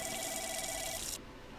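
A telephone rings inside the horror video game The Lancaster Leak, set in a call center: a steady electronic ring that holds for over a second, then drops to a quieter room tone at the end.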